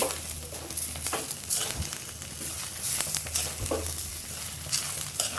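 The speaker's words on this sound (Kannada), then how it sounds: "ಈಗ ಸೊಪ್ಪಿಗೆ ಮಿಕ್ಸ್ ಮಾಡ್ಕೊಳ್ತೀನಿ." Egg scrambled with drumstick leaves frying in a pan, a steady soft sizzle with scraping spatula strokes and light clatter as it is stirred, close and moderately quiet.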